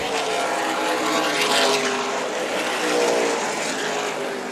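Race cars at Tucson Speedway roar down the back straightaway, running three wide. The engine noise is loud and steady and rises and falls slightly as the pack passes.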